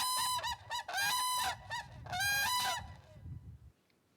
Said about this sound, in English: They really get loud, and this is where you can hear that whooping sort of characteristic.